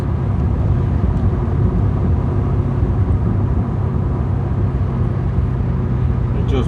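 An LS V8 engine swapped into a Porsche 944 drones loudly and steadily from inside the car, a dense, rumbling low roar held under load with little change in pitch throughout.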